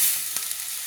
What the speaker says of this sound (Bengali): যতক্ষণ না আমার মশলাটা কষানো হচ্ছে, মানে মশলা থেকে তেল ছাড়ছে, ততক্ষণ আমি মশলাটাকে কষিয়ে নিচ্ছি